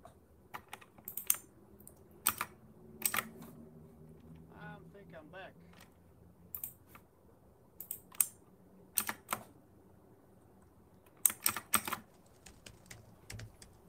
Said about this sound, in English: Oh, I can hear you typing now